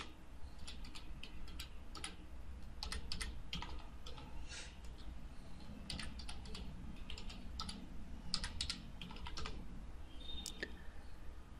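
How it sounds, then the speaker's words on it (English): Keys tapped on a computer keyboard while a password is entered during a Linux install, quiet irregular clicks in short bursts with brief pauses, close and alone without talk. "click root password and type the password twice"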